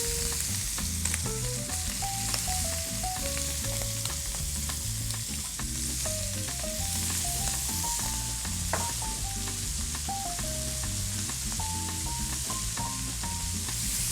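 Shrimp sizzling in a hot pan, a steady loud frying hiss with stirring noises, lasting throughout with tonal background music underneath.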